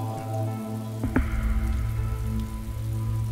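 Rain falls steadily as a constant broadband hiss throughout, mixed with a low, sustained tonal drone, and a brief sharp knock or thud cuts in just past the first second.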